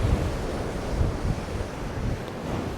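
A strong headwind buffets the microphone on a rocky shoreline while fishing at Newbiggin, Northumberland, a loud, steady rush of wind mixed with surf noise, with no talk.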